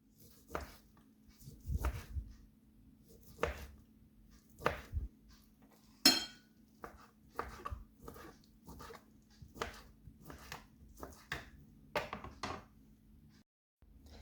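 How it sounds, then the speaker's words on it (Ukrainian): A knife slicing meat into strips for a beet and arugula salad taps repeatedly against a cutting board at an uneven pace, with occasional clinks and board knocks, close by and fairly quiet. "і тепер буду нарізати шматочками м'ясо"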